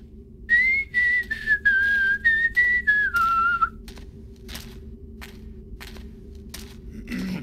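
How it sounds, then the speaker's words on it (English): A character in Thief: The Dark Project whistles a short, wavering tune of several clear, close notes for about three seconds, followed by soft clicks and a low ambient hum. "Immediately starts whistling."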